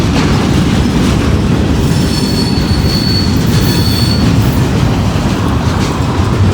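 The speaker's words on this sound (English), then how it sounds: "This train will go back south with steel slabs in it." Freight train cars roll past close by with a constant heavy rumble and clatter, and metal wheels squeal in high screeches partway through.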